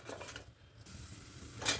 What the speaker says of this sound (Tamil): கடுகு பொரிஞ்சிடுச்சு